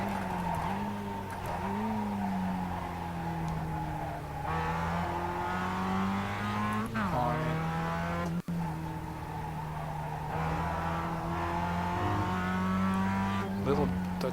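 A Mazda MX-5 circles a race track, its engine droning close and steady, pitch rising under acceleration and dropping sharply under hard braking, with a voice talking over it.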